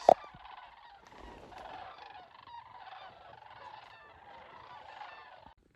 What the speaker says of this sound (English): Those are actually sandhill cranes